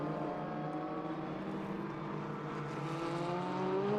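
Sports 2000 Duratec and historic race cars roaring across the start-finish line, a loud, steady engine drone with rising, shifting pitch as the cars sweep past on track.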